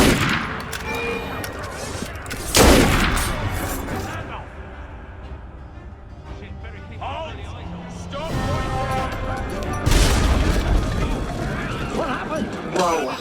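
Gunfire in Assassin's Creed Unity, aimed at Napoleon: loud sharp bursts of shots amid crowd babble and mechanical noise, with voices talking between the volleys.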